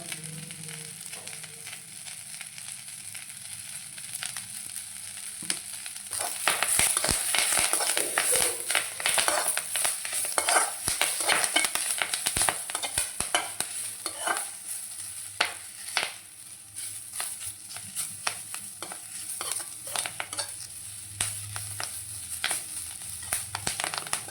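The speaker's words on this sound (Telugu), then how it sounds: "పొగాకు అనేది ఇట్లా ఫ్రై అవ్వాలండి బాగా ఫ్రై చేసుకోవాలి ఇట్లా మునగాకు ఫ్రై అయ్యింది" Drumstick leaves fry and sizzle in a pan while being stirred, a steady close hiss with scraping stir strokes growing busier partway through, under occasional speech.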